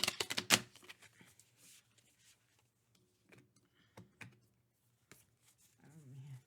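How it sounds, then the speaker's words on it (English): Thick Lover's Oracle cards shuffled by hand: a quick burst of riffling flutters and snaps at the start, then scattered soft slaps and taps of cards, quiet and close with a faint voice near the end. "Oh man, these cards are hard to shuffle. They're thick."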